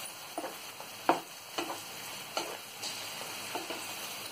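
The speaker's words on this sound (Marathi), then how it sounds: "चारी बाजूने याला मिक्स करून घेऊया असं चांगलं" A spoon stirs ridge gourd chutney mixture in a pan, with soft repeated scraping strokes at an uneven rhythm over a faint sizzle, close and quiet.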